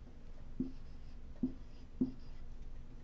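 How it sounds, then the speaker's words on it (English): Pencil writing a short spelling word on paper, three faint scratchy strokes spaced about a second apart in a quiet room. "write the spelling for her"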